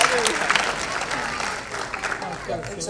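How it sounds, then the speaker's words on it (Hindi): Loud crowd applause fills an award ceremony hall, a steady wash of clapping with some cheering voices mixed in throughout. "Please, जोरदार तालियां."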